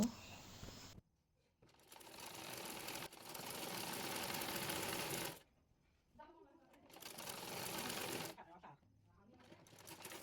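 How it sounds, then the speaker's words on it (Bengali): A sewing machine stitches elastic onto a skirt in three long runs of steady, rapid whirring, separated by short quiet pauses, heard up close. "রাবারটি ভালোভাবে সেলাই করে নেব।"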